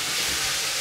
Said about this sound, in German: Plancha ist heiß, Sesamöl ist drin, dampft auch schon. Also, jo, ist heiß genug und jetzt geht's, das Fleisch anzubraten.